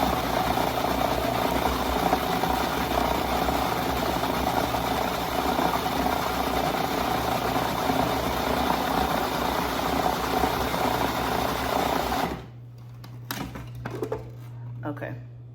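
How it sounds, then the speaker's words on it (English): Food processor chopping fresh cucumbers in a kitchen, a loud steady motor whir with a low hum running for about twelve seconds before cutting off, after which someone talks. "I love a food processor."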